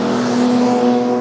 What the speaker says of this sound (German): hier fahren die Autos schön nochmal mit der Geschwindigkeit nach Kurve 3 hier